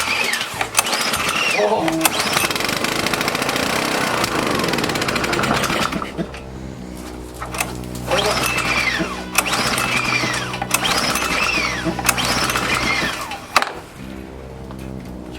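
A small engine, choke out, turns over and settles into a steady idle, running loud and close with a rough periodic chug, while people talk nearby.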